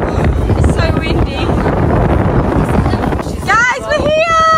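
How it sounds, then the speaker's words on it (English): Strong coastal wind in Malta buffets the microphone in a loud, continuous roar, with a voice breaking through near the end. "It's so windy."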